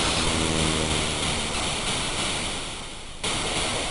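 Synthesized water waves from the SID chip in the Commodore 64 game Beach Head, a steady hissing surf-like wash that swells and dips briefly near the end before resuming, heard alone without talk.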